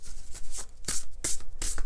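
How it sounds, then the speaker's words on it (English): A deck of cards is shuffled during a pick-a-card reading, with several crisp, papery riffle bursts in a quick, uneven rhythm, close and fairly loud, with no talk. "I want to shuffle in front of the camera."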